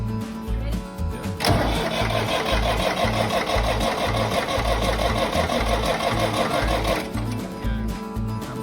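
A Ford 3910 diesel tractor engine cranks over steadily for several seconds, a loud, fast, even mechanical churn close by that starts and stops abruptly, with a low rumble before and after.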